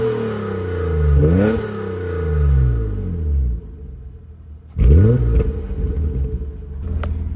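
BMW E36 engine revving while parked after a warm-up drive: two loud, sweeping rev blips rising and falling in pitch, separated by a steady idle rumble, with a further sharp rev near the end.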